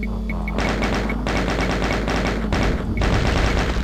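Rapid, loud gunfire in Doom 2, bursts of repeated shots in quick succession with brief pauses between volleys, close and continuous over the whole stretch.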